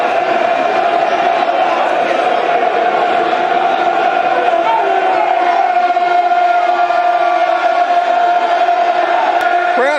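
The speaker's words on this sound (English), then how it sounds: "Crowd responding, listeners." Sustained football stadium crowd noise at Millwall against West Bromwich Albion, a dense steady roar of voices holding level throughout, with a sharper shout rising briefly near the end.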